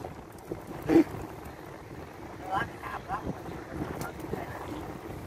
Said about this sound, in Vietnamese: gió quá trời gió bữa nay kinh khủng thiệt